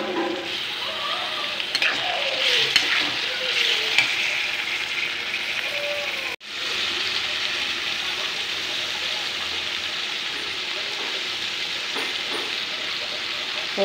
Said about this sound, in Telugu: ఇప్పుడు ఆలుగడ్డలు వేసేసుకోవాలి